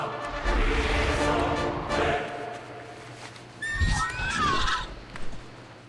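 A horse mount in World of Warcraft lets out a clear, loud whinny, with hoof clip-clops and game sound around it and a voice talking earlier.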